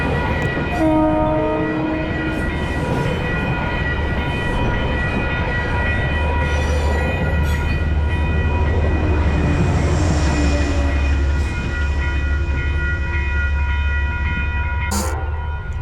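A Metro North passenger train with a General Electric locomotive rolls loudly past Peekskill station, New York, its horn sounding several times at the start, with a steady rumbling engine and rail clatter throughout.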